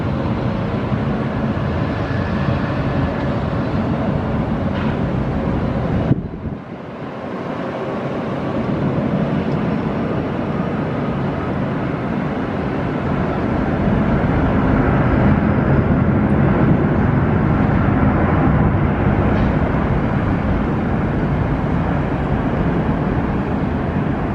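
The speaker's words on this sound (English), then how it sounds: "Next up we see the China Cargo Airbus A330 taking off straight out" A China Cargo Airbus A330 freighter takes off at Amsterdam Schiphol, heard as a loud, steady jet roar that drops off briefly and then builds again into a broad, sustained rumble without any voices.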